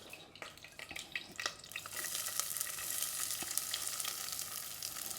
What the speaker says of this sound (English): Add a bit of oil there. We sweat the onions first.